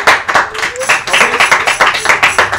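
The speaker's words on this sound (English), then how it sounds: "Clap your hands." Church congregation clapping in praise, a close, loud run of rhythmic overlapping handclaps, roughly steady beats, with a voice briefly speaking over them.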